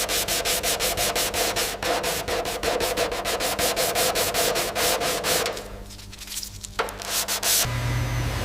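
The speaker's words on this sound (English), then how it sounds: "Sequential buffing with varying grades of abrasive media progressively transforms the matte industrial coating into a uniform reflective surface." Abrasive media buffs a car body shell at the Rolls-Royce factory in Britain: loud, rhythmic rubbing strokes repeat steadily, then ease into quieter, smoother passes before a final sharp change in tone.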